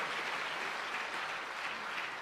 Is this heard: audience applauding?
yes